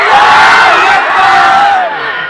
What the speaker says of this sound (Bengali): দেখা যায় সিঙ্গেলরা তাকবীর দেন